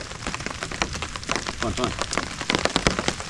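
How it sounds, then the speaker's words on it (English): Steady rain patters on a camping hammock during a thunderstorm, dense and close, with irregular louder drops hitting the fabric; a voice briefly speaks underneath. "so we get a lot of good rain sounds"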